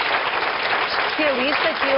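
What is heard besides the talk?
studio audience applause for the specialist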